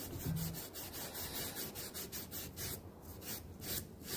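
Soft, repeated strokes of a file on a felt piano hammer of an old Petrof piano scrape back and forth at an even tempo, faint and close, with a dry rasping texture.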